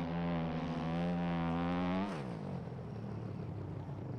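A Husqvarna motocross bike engine at a supercross race holds a loud, steady high-pitched drone, then drops in pitch and fades into a rougher, quieter rumble, with no talking.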